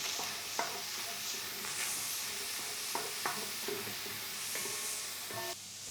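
Onion with a little garlic sautéing in a pan, a bright continuous sizzle with occasional spatula knocks and scrapes, near and fairly quiet, no voices.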